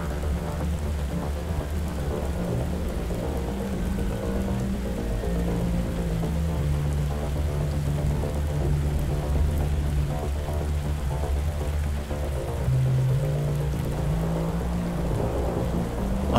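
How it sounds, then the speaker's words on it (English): Light rain falls steadily under a high-altitude thunderstorm with anvil crawler lightning, a continuous hiss with a low rumble of distant thunder beneath it. "And there's just light rain under this area of the storm"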